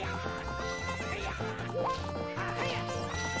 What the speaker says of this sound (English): What's up with that horse? Is that Epona?